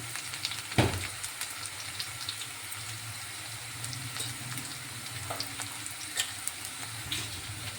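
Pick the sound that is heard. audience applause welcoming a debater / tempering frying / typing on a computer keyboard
tempering frying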